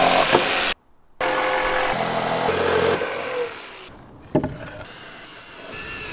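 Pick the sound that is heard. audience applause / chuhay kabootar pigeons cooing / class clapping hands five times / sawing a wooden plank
sawing a wooden plank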